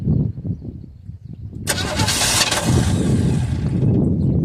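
A 1978 Chevy Custom Deluxe engine cranks over with a rhythmic starter churn, then a loud burst as it catches and runs roughly, close and prominent with brief voices nearby.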